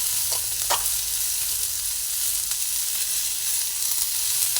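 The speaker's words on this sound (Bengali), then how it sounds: "অল্প একটু আদা দিয়ে দিলাম আদাটা একটু তেলের মধ্যে একটু ভেজে নিচ্ছি" Ginger fries in oil alongside papaya and capsicum in a close, steady sizzle, with a couple of light stirring scrapes early on.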